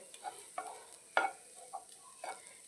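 An egg fries in a pan, giving soft, faint sizzling with scattered little pops and crackles at irregular intervals, close by and with no talk.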